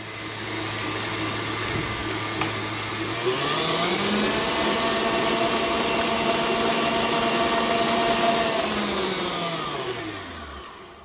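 An electric mixer beats cookie dough of creamed butter and sugar, a steady motor whine that climbs in pitch, holds for several seconds, then winds back down, loud and close with no talking.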